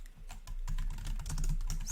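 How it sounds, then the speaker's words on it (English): Rapid typing on a computer keyboard, a steady stream of close, fairly loud clicks and key taps with no pauses across two seconds. "I can't type today"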